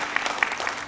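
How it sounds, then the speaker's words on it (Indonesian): Brief applause from a church congregation, a dense patter of many hands clapping at moderate volume with no voices over it. "Berikan tepuk tangan untuk Tuhan kita."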